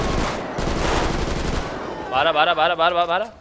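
Rapid bursts of gunfire rattle loudly in the GTA 5 video game for about two seconds, then a voice chants repeatedly over the fading noise.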